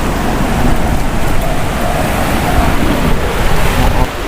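Loud, roaring storm wind in Punjab buffets the microphone continuously, a dense storm rush with no pauses, strong enough to tear off tin roofing.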